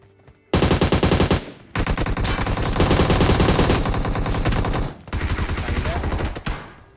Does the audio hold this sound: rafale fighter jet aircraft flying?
no